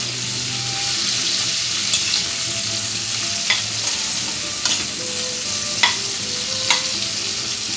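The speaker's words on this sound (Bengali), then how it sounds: "হালকা লাল লাল ভাজা হলে আমি তুলে নেব।" Prawns with their shells on fry in hot oil, a loud steady sizzle running the whole time with a few brief scrapes from turning or stirring.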